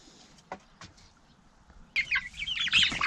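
Farmyard chickens and half-grown chicks give a few soft clucks, then a burst of higher, busier chirping and clucking from several birds at close range.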